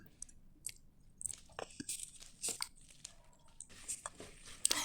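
Dried broad chilies being cut into small pieces, giving a string of crisp, close snipping crunches at an irregular rhythm over a quiet background, with no talking.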